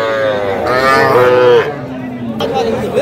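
A young heifer calf moos at a village cattle market, loud and close, with several drawn-out calls over steady crowd murmur.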